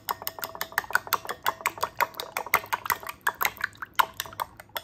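A spoon clinks and scrapes rhythmically against a bowl while chocolate pancake batter is stirred, sweetened with agave syrup. The sound is a quick, steady series of close, bright taps with no talk.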